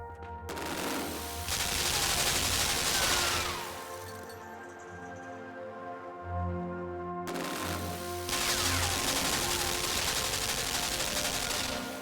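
Sustained bursts of rapid automatic gunfire from in-game guns firing at one another, loud and dense, with a brief lull mid-way before the shooting resumes at full intensity.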